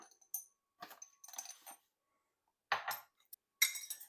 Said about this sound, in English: I'm going to start by putting in 3 teaspoons of this coconut sugar